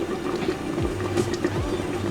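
A pot of Jamaican stew peas simmering with the lid partly on, giving a steady close bubbling and gurgling with soft low pops throughout.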